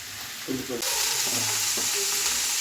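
Potatoes, cauliflower and carrots fry in a pan for a home dinner, giving a steady, close sizzle throughout, with a few soft scraping and stirring sounds mixed in.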